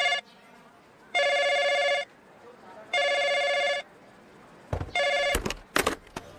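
A telephone rings three times in even, bright bursts, followed by a few clattering knocks and rustles.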